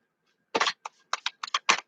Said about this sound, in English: So how I would use this deck is I would just shuffle it